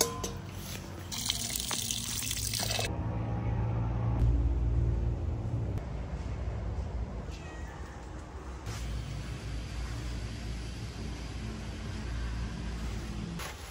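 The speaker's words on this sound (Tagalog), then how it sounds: "Add water." Water pours into a pot of beef marinated in vinegar, soy sauce, black pepper, sugar and bay leaf, a steady splashing rush that is loud at first, then settles into a softer running flow with a low rumble beneath.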